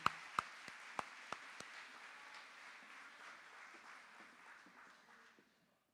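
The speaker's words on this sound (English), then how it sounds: "we're going to give another round of applause to all of our first in class" Applause for award recipients at a senior awards ceremony, opening with a few sharp claps and then a soft, distant patter that gradually thins out and fades to silence.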